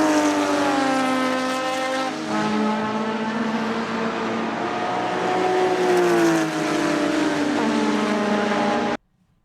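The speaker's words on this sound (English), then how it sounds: "Porsche 935 is a race car that was developed and manufactured by German automaker Porsche." Porsche 935 race car engine holding a loud, sustained high-revving drone with strong harmonic tones that dip and climb as revs shift, close and continuous before cutting off abruptly near the end.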